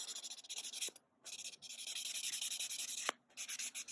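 A nail file scrapes across a fingernail to smooth its ridges. The strokes are quick, close, rhythmic and raspy, coming in short runs with brief pauses, and no one talks.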